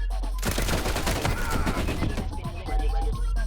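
Rapid automatic gunfire bursts fill the Roblox FPS Bombline match, dense overlapping shots and impacts in a loud continuous fusillade with a brief pause near the start and game effects underneath.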